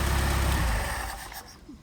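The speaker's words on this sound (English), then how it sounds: "it's still idling too high, so it's almost, that's about 1400 RPM" A Mercedes 190SL with Solex carburetors idles fast at around 1400 RPM, a low steady engine rumble that is strongest at first and then fades and thins toward the end.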